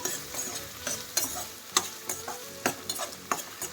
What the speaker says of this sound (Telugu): ఇప్పుడు నాలుగు కరివేపాకు రెబ్బలను వేసుకొని ఒకసారి ఫ్రై చేసుకుందాం